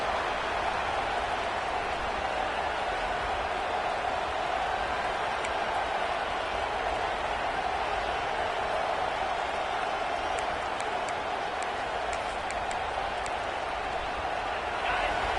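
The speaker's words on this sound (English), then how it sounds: "this crowd is fired up. Listen to this noise here." A fired-up football stadium crowd during a game against Wisconsin roars in a dense, continuous wash of noise with scattered claps and shouts, heard from a distance and never letting up.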